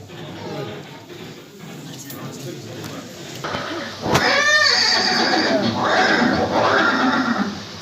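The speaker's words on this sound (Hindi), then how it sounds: "ये दृश्य महाराणा प्रताप और सुविख्यात स्वामी भक्त घोड़े चेतक के अंतिम मिलन का है" A horse, the war horse of Maharana Pratap, neighs loudly and nearby with a shaky, drawn-out whinny, then gives a second call while someone talks over it.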